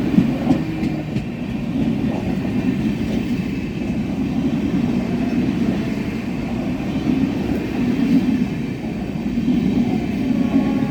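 The Mangalore Superfast Express runs between Mumbai and Konkan with a loud, continuous rumble of wheels on rails and faint rhythmic clatter throughout.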